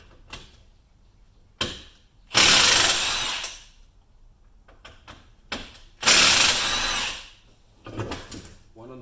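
Ratchet wrench working the brake caliper bolts on a 2019 Dodge Charger Scat Pack during a Brembo six-piston caliper swap: two long, close, rapid ratcheting bursts separated by scattered lighter clicks and handling noises.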